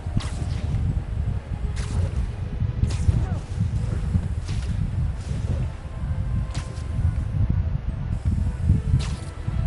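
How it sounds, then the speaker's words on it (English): Vaccine being sprayed into trees in Marvel's Spider-Man on PS5, heard as repeated short hissing bursts spaced a second or two apart over a low rumbling game background. "The vaccine's airborne, so I'll just spray it into the trees."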